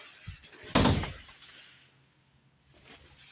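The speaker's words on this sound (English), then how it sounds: "this door right here secures itself on this end. There's a magnet there that allows the door to be securely attached" A bathroom door in a 2023 Forest River Forester 2851SLE travel trailer swings shut and snaps against its magnetic latch in one sharp, close thud, followed by a soft faint knock a couple of seconds later.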